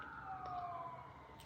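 An emergency vehicle siren wails faintly in the distance, one steady sliding tone drifting slightly downward as it passes, with no talk over it.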